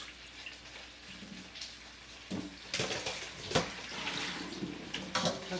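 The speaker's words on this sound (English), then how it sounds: "we're going to drain the water for the bok choy" Rinsed baby bok choy being tipped into a drainer in a kitchen sink, with water splashing and trickling, a few louder bursts of pouring and clattering midway, steady nearby dripping throughout.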